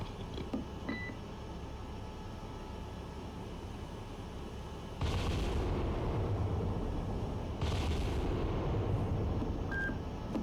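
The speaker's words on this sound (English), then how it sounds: "Bridge, battery, guns engaging." Naval ship deck guns firing in the Cold Waters naval combat game: two heavy booming blasts a few seconds apart with long rumbling tails over a constant low engine drone and occasional interface beeps.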